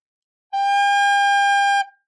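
One steady G on a recorder, played as a beginner exercise for Au Clair de la Lune, held firm for over a second and then released, solo and close with no voices.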